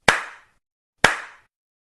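Two sharp hand claps about a second apart, each close, crisp and isolated against silence, with short decaying tails.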